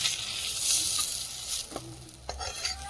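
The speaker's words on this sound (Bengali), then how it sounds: "বেগুনগুলো ভেজে ভেজে তুলে নেব।" Eggplant slices frying in plenty of oil in a pan over a wood fire, a loud, dense, continuous hiss up close, with a couple of brief utensil taps near the end and no voices.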